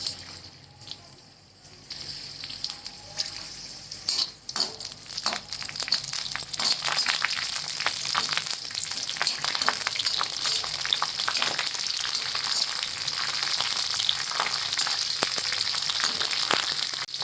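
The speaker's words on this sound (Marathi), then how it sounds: "याच्यामध्ये ना मिरच्या भाजून घेते चांगल्या डाग पडेपर्यंत तेलामध्ये" Dried red chillies and garlic frying in hot oil for a dried Bombay duck chutney, a steady close sizzle with crackles and occasional stirring scrapes that builds in intensity and continues throughout.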